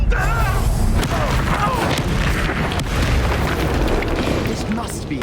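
A Bombarda blast spell in the Hogwarts Legacy video game bursts as a loud, sustained booming rumble with crackling debris, mixed with game sounds and voices throughout.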